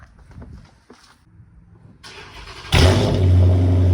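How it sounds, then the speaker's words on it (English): A catless 5.7 Dodge Charger engine cranks and then catches, roaring to a loud, steady idle close by. "I'm trying to start this car."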